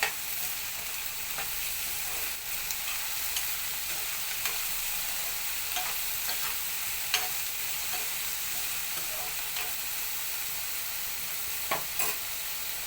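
Salted brinjal and chana dal curry stirred in a hot pan, a continuous close sizzle broken by repeated scraping and clinking of the spoon against the pan, with no talking throughout.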